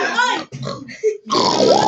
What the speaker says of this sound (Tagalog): May baboy!